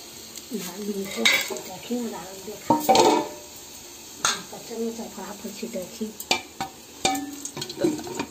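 Garlic sizzles softly in hot oil while a metal spoon clinks and scrapes against the pan, and someone talks over the cooking of a Chhattisgarhi garlic-chilli chutney.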